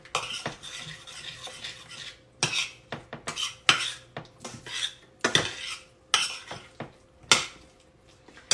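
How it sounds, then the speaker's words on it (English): An old spoon scrapes and clinks around a pot of thick apple pie filling, a run of uneven metallic stirring strokes with short pauses between them, close and fairly quiet. "Get my old trusty spoon that stirs good."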